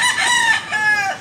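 An eight-month-old yellow-legged gamecock crows loudly and close, a single long call that rises, dips, then swells again.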